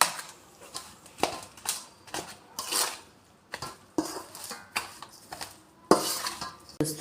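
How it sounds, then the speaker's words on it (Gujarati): Boiled chil bhaji greens being mixed into flour dough for a rotla, with close, irregular clinks and scrapes of a utensil against a metal bowl and dish, in uneven bursts with no talking. "હવે એ ભાજીને આપણે આ લોટની અંદર ઉમેરી દઈશું. હવે બધું સારી રીતના મિક્સ કરી લઈશું."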